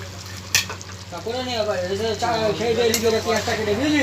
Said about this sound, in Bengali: ভালোভাবে একটুখানি তরকারিটা নেড়ে দিলাম।